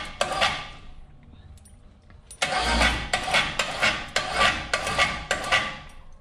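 A motorised skinning winch hauls a raccoon carcass upward, starting after a near-silent pause with a loud, close whirring drone that pulses in a steady rhythm for several seconds.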